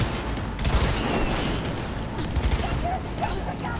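Rapid gunfire bursts from the video game Cyberpunk 2077 crackle and thud loudly and continuously throughout, with a player's excited voice talking over the shots.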